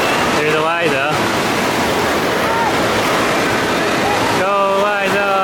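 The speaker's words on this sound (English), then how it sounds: "They're over in the deep end waiting for the waves to go." Surging water from waves in an indoor wave pool makes a steady, broad rush throughout, with bursts of high, excited children's voices over it near the start and end.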